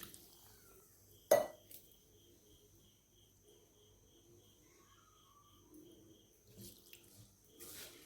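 Water poured into a bowl of moong dal for overnight soaking gives a brief splash, then quieter trickles and another short pour later, with crickets chirping faintly in the background.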